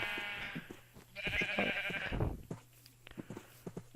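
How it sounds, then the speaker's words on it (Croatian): Sheep bleating in the Minecraft video game, two or three drawn-out synthetic bleats in close succession, loud and clear, with some faint clicks and game noise around them. "Evo ja, nosim ovce."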